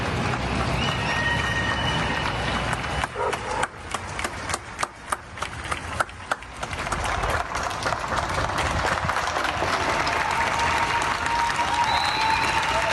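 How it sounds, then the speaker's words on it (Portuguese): Evening applause for health workers rings out in Brazilian cities such as Tubarão in Santa Catarina: dense, sustained clapping from many people throughout, with sharper individual claps standing out midway. "Outros estados também tiveram aplausos."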